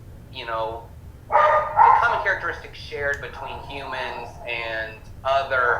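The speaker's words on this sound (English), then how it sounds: "If you can hear the dogs in the background," Dogs bark and yip in the background in repeated short bursts, fairly faint and partly masked by someone talking steadily over them in the foreground.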